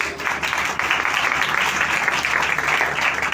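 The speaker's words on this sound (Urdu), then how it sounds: "زوردار تالیاں بجائیں" A church congregation at a live worship meeting claps together loudly and continuously, a dense wash of applause filling the room throughout.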